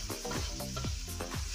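Spice paste dropped into hot oil for a home-cooked fish dish, crackling and sizzling loudly and steadily at close range, with scraping stir sounds, and no one speaking.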